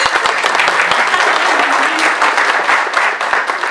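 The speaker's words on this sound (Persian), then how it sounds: "سپاس و تشویق شما" Steady, dense applause from an audience at a poetry festival fills the space, a close continuous patter of many hands with a faint voice or two underneath.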